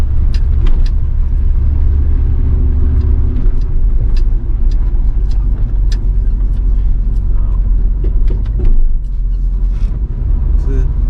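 A 1973 GMC C2500 Camper Special pickup with a 454 big-block V8 idles steadily nearby, a continuous low rumble lasting throughout with small clicks and knocks over it.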